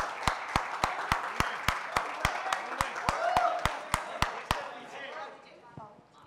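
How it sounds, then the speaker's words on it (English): At a trailer launch event, an audience applauds under a loud, evenly spaced series of sharp claps keeping a steady beat, fading out toward the end with faint voices behind. "We can quadruple the round of applause."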